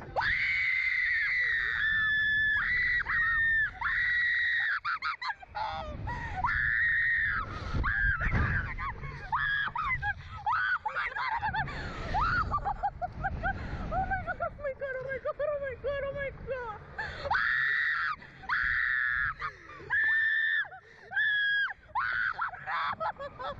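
A person screams loudly and repeatedly in long, high-pitched, strained bursts with gasping breaths between them, continuing almost without pause across the whole stretch.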